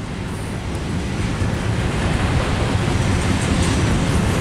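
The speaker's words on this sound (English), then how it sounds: "Yeah, it's a locked train." A locked train rumbles past close by, a steady loud roar of wheels and cars with constant low-end rumble throughout, no voices over it.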